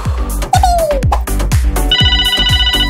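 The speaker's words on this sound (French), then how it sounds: "Mais voilà Ben qui téléphone" A telephone rings in a repeated electronic ringtone pattern over a rhythmic musical backing, loud and close.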